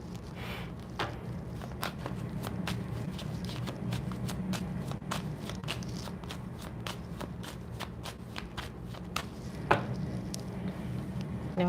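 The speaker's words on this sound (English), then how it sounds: "And when I shuffle this deck again" A deck of tarot or oracle cards is shuffled in a quiet room, producing a long series of soft rapid riffling snaps and flicks at close range.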